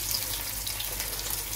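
Vietnamese spring rolls (chả giò) double-frying in very hot oil over high heat, a steady fizzing sizzle with crackle at moderate level.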